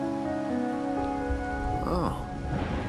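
Steady rain patters in the video game Wuthering Waves, a constant soft hiss under sustained musical tones and a faint sweeping sound, with no talk.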